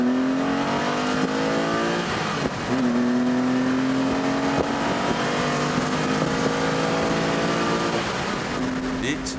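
A TVR with a 3.6-litre straight-six and a Porsche Boxster S run an acceleration test, engines howling through repeated rising gear pulls with brief shift breaks, under a voice.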